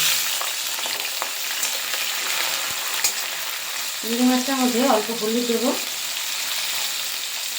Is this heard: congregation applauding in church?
no